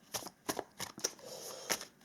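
Tarot cards are shuffled in a few quick, soft riffling bursts, close and fairly quiet, with no talk.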